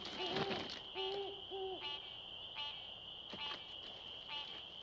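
An owl hoots several times at a moderate distance in a springtime forest, low breathy calls repeated in an uneven rhythm over a constant high insect or frog drone.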